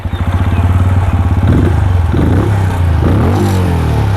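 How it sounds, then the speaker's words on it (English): A 2020 Benelli 400 Imperiale single-cylinder motorcycle starts up close by, cranking briefly then catching into a loud, lumpy thumping idle with a few quick blips of the throttle. "So to start it up, it sounds fantastic."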